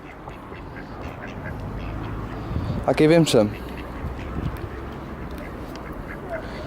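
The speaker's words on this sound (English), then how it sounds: "oh, there's a duck there" A duck quacks in a short burst of loud, close calls at a pond where swans gather, set against outdoor background noise and people chatting nearby.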